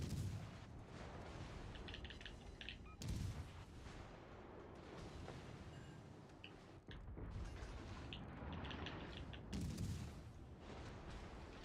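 Naval gunfire in World of Warships Legends: heavy, rumbling cannon blasts and rolling booms layered under constant battle noise and mechanical creaks, with a few sharper volleys standing out, dense and continuous.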